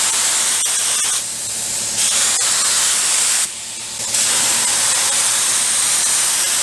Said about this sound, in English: It's spraying pretty even. This gun's a lot better than the one that we were using